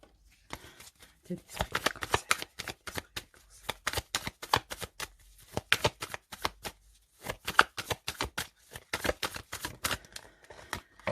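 Golden Universal Tarot cards being shuffled and cut, a long run of quick papery riffles and taps in irregular bursts, close and fairly quiet, with a voice talking faintly in places.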